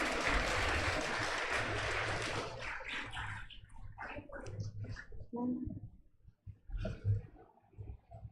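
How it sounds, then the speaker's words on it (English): Audience applause at a college foundation day ceremony honoring toppers, a broad wash of many hands clapping that fades after a few seconds as a voice begins speaking. "Everyone, please give them a hand of applause."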